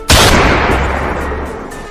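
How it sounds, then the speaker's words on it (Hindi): A single loud gunshot cracks out sharply, followed by a lingering echoing decay. "अरे यार, गोली क्या चल गई?"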